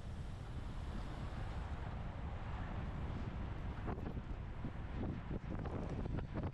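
Strong wind buffeting the microphone outdoors during a men's 50/55 criterium bike race, a loud continuous rushing roar with some rumbling gusts.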